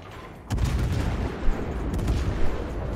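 Heavy cruiser Petropavlovsk main guns firing in World of Warships, a sudden deep boom followed by sustained rumbling salvos and further heavy blasts, loud and close.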